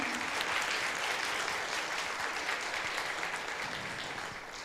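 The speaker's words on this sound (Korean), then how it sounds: "다시 한번 큰 박수 보내주실까요?" Steady applause from an audience fills the room, a dense wash of many hands clapping that gradually fades toward the end.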